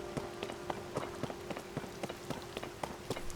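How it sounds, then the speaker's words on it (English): Steady patter of rain falling on surfaces in the video game Zelda: Tears of the Kingdom, with scattered drop impacts ticking over a constant wash and a faint hum beneath, no voices. "But it's raining."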